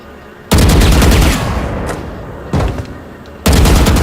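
Gunfire at practice bots in the video game Valorant, three loud bursts of rapid shots, each abrupt and dense, separated by short pauses.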